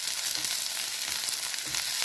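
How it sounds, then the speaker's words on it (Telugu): Thin strips of carrot and capsicum sizzle and fry in a pan with an even hiss and light stirring, steady and close. "ఇది వేయించుకోవాలి"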